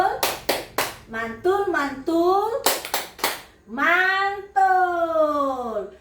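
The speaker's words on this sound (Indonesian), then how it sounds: "Oke, kita tepuk mantul." A group joins in a rhythmic clapping chant called tepuk mantul at an Indonesian child-protection training session, with sharp handclaps in quick sets alternating with sung, drawn-out voices, loud and close.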